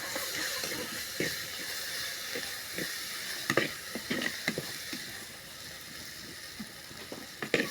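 Steady frying sizzle and hiss of ginger, garlic and pepper in a pan, with scattered crackles and spatters, fairly quiet and close, with no voices.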